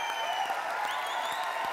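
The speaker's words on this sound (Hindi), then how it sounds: "आपकी जोरदार तालियों के बीच" Studio audience on a Bollywood TV show claps loudly and continuously to welcome a guest onto the stage, a dense, sustained wash of applause.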